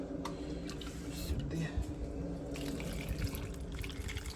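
Liquid poured over tomatoes packed in a jar for fermenting: a steady, continuous trickle and splash of water, close and moderately loud throughout, with faint background sounds.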